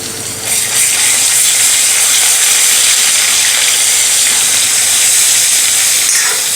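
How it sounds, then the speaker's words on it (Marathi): Garlic and coriander paste sizzles and hisses steadily in a hot pan, a loud, continuous broadband fry that holds evenly for several seconds with no talking. "आता लसूण घालूयात लसूण आणि कोथिंबीरीची पेस्ट करून घेतलेली आहे ते व्यवस्थित मिक्स करून घेऊया"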